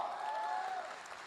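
A short stretch of audience clapping at a business meeting, steady and fairly loud, then fading out over about a second.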